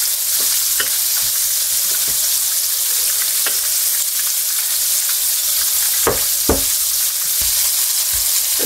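Flour-coated food fries in a hot pan with a steady, loud sizzle, broken by occasional clicks and scrapes of stirring.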